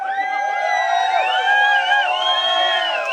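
An audience at a burlesque show cheers loudly, with shrill whistles and rising whoops cutting through a continuous crowd roar.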